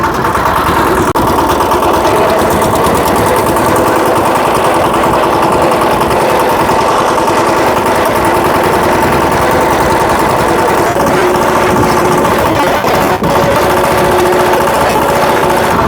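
A VST Shakti four-wheel mini tractor engine runs steadily and loudly close by, a continuous rough, chugging drone with no pauses throughout.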